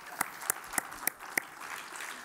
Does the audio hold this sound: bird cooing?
no